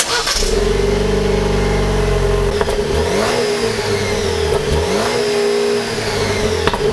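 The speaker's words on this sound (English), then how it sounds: "And now we'll have a listen to the exhaust." Turbocharged Jeep Wrangler engine revving through a bare exhaust with no tips, loud and close, with a steady drone broken by several sharp throttle blips that rise and fall, no talking.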